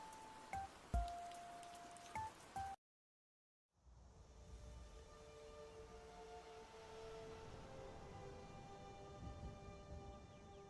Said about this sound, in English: Relaxing Animal Crossing music plus rain sounds.